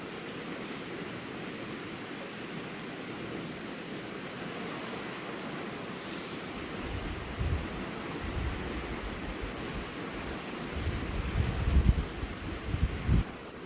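A river flowing steadily outdoors, a broad continuous rush of water that swells louder toward the end, with no talk.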